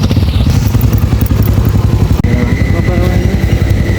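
A motorcycle engine runs steadily and loud close by with a rapid, clattering putter throughout, a voice faintly audible beneath it.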